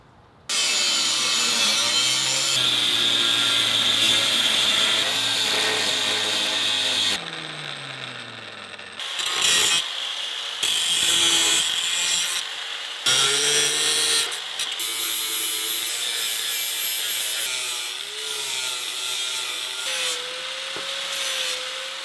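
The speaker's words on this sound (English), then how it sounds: "cut that out using the angle grinder" Angle grinder cutting a circle out of 1/8-inch steel plate, a loud harsh whine and rasp that runs in several sustained passes with short pauses between them, close up with no talking.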